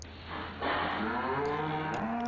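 Calves in a Farming Simulator 15 farmyard moo in a few drawn-out, tonal calls, loud and close, with no talking over them.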